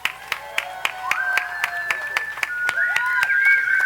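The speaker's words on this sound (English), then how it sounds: "Big round of applause for everybody." Audience applause at a Universal Studios Hollywood press conference for The Walking Dead attraction, sharp claps spaced through the clip under a dense layer of cheering and excited voices.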